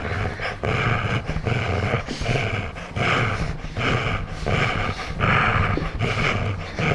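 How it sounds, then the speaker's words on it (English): A dog growls steadily while tugging on a rope, close and loud, in rough repeated bursts with panting breaths between them and no speech. "have a game of tug of war with my dog."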